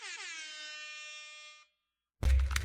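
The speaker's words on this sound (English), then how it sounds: "Here's some air horns for Bailey Shrek." Air horn sound effect blasting one long, loud, bright tone that stops abruptly, followed after a short silence by a burst of noisy crowd-like sound.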